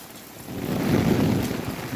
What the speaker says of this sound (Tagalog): walang tigil ng ulan kagabi pa to